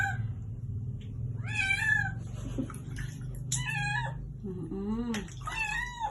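A cat being bathed meows repeatedly, four or five loud drawn-out wavering cries over a low background hum, with a person talking between them.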